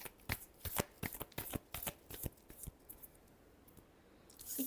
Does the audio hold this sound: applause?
no